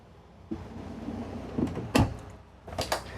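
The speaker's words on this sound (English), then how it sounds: "And then extra large drawer down here." An extra large drawer slides open in the living quarters of a 2025 Cimarron Norstar 4-horse side-load trailer, with a soft thump, a rolling slide and a couple of sharp knocks and clatters nearby.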